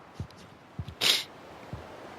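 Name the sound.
sneeze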